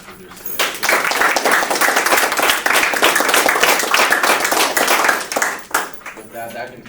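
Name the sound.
round of applause for guest speakers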